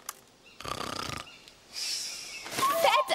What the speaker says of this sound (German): vielleicht hört er dann auf zu schnarchen